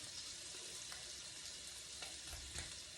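Garlic goes into a hot pan with grilled scallops and shrimp, giving a quiet, continuous sizzle with a couple of soft scrapes of stirring, faint and without talk.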